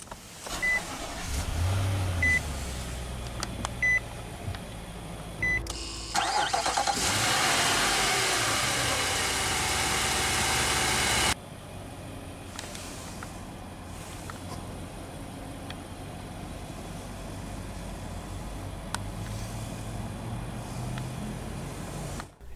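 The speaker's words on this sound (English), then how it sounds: "let's go ahead and start the engine" A 2024 Nissan Armada Platinum SUV engine cranks via push-button start and catches, roars briefly as it starts, then settles into a quiet, steady idle hum.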